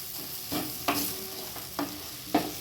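Mashed potatoes stirred into cooked chicken in a pan for chicken chops, a soft sizzle under a few scraping spatula strokes roughly every half second, close and quiet, no talk.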